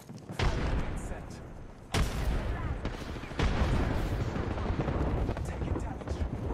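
Grenade explosions in a combat video game, several heavy booms one after another, each a sudden loud blast followed by a rumbling roar, with a voice partly under the noise.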